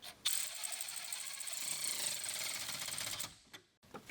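An 8mm tool ratchets down the negative battery terminal on a 5.0L Coyote F-150, a close, fast continuous clicking that runs for about three seconds and then stops with a couple of faint taps.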